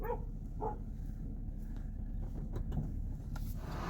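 Dogs outdoors near a car give faint, scattered yips and barks against a steady low rumble of a vehicle and outdoor background noise.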